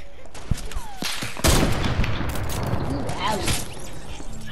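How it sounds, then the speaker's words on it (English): Gunfire in the Fortnite video game, rapid bursts of close, loud shots crackling over one another, with a heavier burst partway through and continuing fire after it. "Don't you run away, you shot me first."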